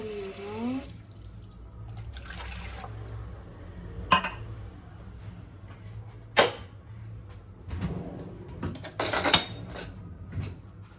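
A glass of water poured into a cooking pot in a home kitchen, with several sharp clinks of glass and metal and a short splashing pour, close and moderately loud, while a voice talks in between.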